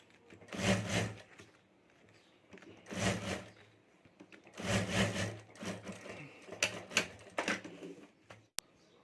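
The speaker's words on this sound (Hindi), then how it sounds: "तो यहाँ भी ऊपर में एक सिलाई कर देता हूँ" A sewing machine runs a line of stitching across the top of a handmade handbag's lining, in several loud mechanical bursts of a second or so, separated by short pauses and lighter handling noises.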